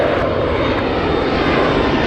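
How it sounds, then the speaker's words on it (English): A McDonnell Douglas MD-11 trijet airliner taking off at Anchorage airport, its engines giving a loud, continuous broadband roar without pause. "It's a Trijet. MD-11."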